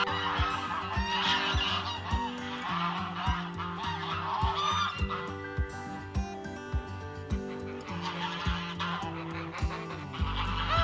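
Loud, busy honking from a flock of geese outdoors in the morning, overlapping calls continuing throughout with no pauses.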